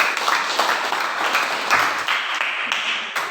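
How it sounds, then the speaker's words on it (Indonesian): Applause from a classroom audience for the first student group after its presentation, a dense, steady patter of many hands clapping close by for a few seconds. "Jadi tepuk tangan untuk kelompok satu."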